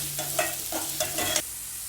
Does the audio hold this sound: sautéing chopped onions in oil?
yes